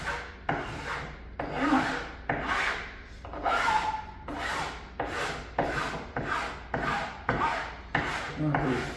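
A hand file taking the sharp edge off a countertop during installation, with about a dozen evenly paced, close, loud rasping strokes and short pauses between them, no talk.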